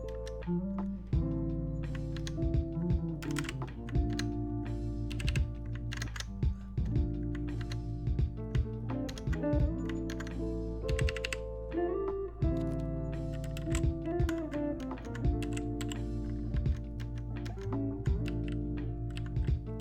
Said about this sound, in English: So here's a little typing test of what it sounds like.